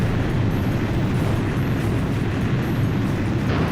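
A steady, broadband engine roar of a combat aircraft in the video game Ace Combat 5: The Unsung War fills the clip, constant and loud with no voices.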